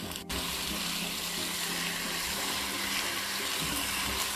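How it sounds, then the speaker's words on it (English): Mutton pieces frying in a wok on high flame, a loud continuous hiss and sizzle that starts with a sharp onset and stays even throughout, with no voices. "I'm going to take the mutton pieces and add that to this wok."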